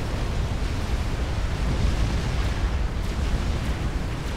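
Explosions from units being destroyed in the real-time strategy game Supreme Commander: Forged Alliance, a dense, continuous rumble of booms and bursts that stays loud throughout with no pauses.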